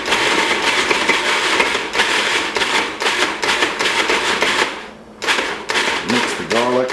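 A Cuisinart food processor chops garlic in olive oil, its clattering whir starting and stopping in several short pulses with brief pauses, loud and close in a home kitchen.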